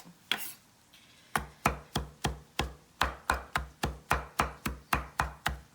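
A knife chopping spinach on a cutting board, after one early tap and a pause: a run of crisp, evenly spaced knocks, about three per second, loud and close with no talk.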